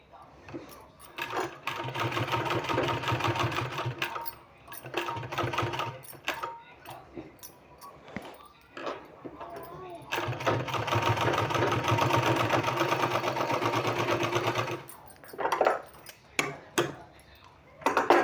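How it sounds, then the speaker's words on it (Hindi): A sewing machine stitches fabric for a sleeve design in long, steady whirring runs broken by short pauses, loud and close, with a voice talking faintly in the gaps. "और फिर से उसी तरह से हमको सिलाई लगाना है।"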